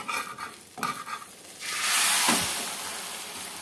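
An omelette sizzles and fries in a pan after being flipped, with a brief scrape and stir near the start, then a steady, close hiss of frying that swells and holds to the end.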